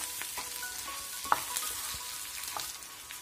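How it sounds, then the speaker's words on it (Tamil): Tamarind roasting in a pan for tamarind chutney, giving a soft steady sizzle with a few light scrapes and one sharp clink near the middle, no talk. "புளி சேர்த்து ஒரு 2 மினிட்ஸ் அப்படியே வறுத்துக்கலாம்"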